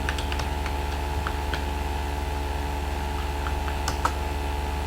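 Keys clatter on a computer keyboard in a quick, uneven stream of light clicks, close by and steady against a low background hum, with a few sharper taps standing out.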